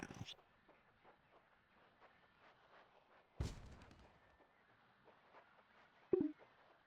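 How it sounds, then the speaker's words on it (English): Cannon fire in a sixth-generation slasher video game: two loud, booming shots a few seconds apart stand out above a quieter rhythmic game soundscape. "I hear the shots."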